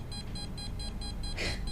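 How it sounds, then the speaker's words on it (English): An electronic device beeps in a steady, quick series of short, evenly spaced tones, faint against a low background hum, with one brief burst of noise near the end. "Make the beeping go faster."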